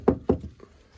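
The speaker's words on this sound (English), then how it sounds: "So, knock on wood." Two sharp knocks on wood in quick succession, close and distinct, followed by a fainter tap.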